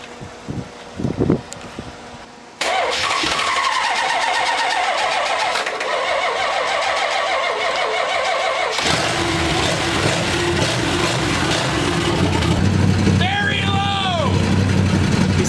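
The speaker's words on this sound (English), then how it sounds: "so now we're jump starting the car" Car engine being jump started on a Dodge Dart race car with a dead battery, a loud steady mechanical drone that kicks in abruptly after a brief quiet stretch and runs on, with people talking over it.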